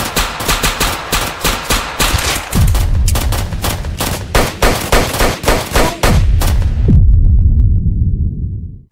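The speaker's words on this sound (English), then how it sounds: "fired shots towards the two OGZ members" Rapid bursts of gunfire from a Roblox street-war roleplay shooting, loud and close, with repeated volleys and heavy low-end thumps in a steady rhythm before cutting off near the end.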